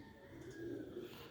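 Pigeons of the Ferozpuri breed coo softly and low in a short, close, throaty burst against a steady background hum.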